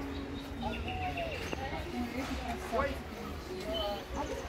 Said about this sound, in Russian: Макс, птички.